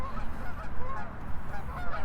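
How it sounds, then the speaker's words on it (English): Several geese honk by a lake in Regina, short overlapping calls against a steady outdoor ambience, fairly close and persistent. "These geese are saying things too."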